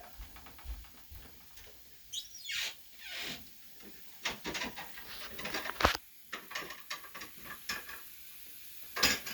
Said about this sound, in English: And we're going to let that sizzle.